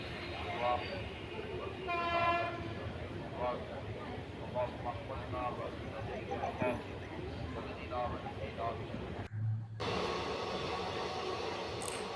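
Another train passes a moving Mangalore Intercity Express near Podanur Junction between Coimbatore and Kozhikode, a steady loud rumble with horn-like tonal blasts near the start, voices talking over it, and a brief dropout near the end.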